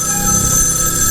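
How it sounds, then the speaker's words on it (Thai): In the horror video game Evil Inside, a telephone rings continuously and loudly with a bright, buzzing electronic bell tone that fills the whole moment, with no talking. "เราต้องมารับโทรศัพท์ก่อนทุกคน"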